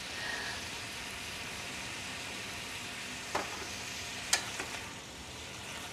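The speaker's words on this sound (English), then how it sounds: "I love to hear it sizzle" Sausage and onion sizzle in olive oil in a pan, a steady bright hiss throughout with a few sharp pops and clicks near the end, close and moderately loud with no talk.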